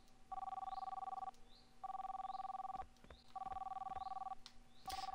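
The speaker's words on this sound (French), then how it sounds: "Allez, on répond au téléphone quand même." An in-game telephone in a laboratory setting in The Long Reach rings in a steady repeating pattern, four evenly spaced electronic trills with short gaps, over faint background hum and small clicks.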